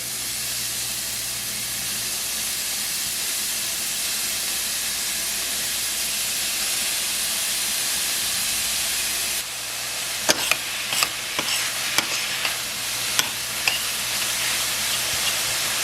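Ground meat browning in a single pan for a zucchini spaghetti bake, giving a steady close broadband sizzle that continues throughout, with a few sharp clicks and scrapes of stirring near the end.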